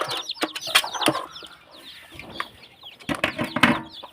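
Eleven newly hatched chicks with hens, a busy mix of close, high-pitched chick peeps and lower hen clucks in irregular bursts, with no talk.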